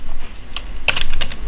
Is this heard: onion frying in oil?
no